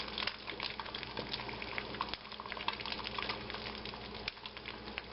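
An egg frying in a pan for huevos rancheros gives a steady, dense sizzle with constant fine crackling and popping, close and moderately quiet, with no voices.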